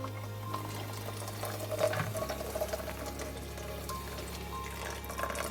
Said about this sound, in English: I'm just going to rinse it under cold water to stop the cooking process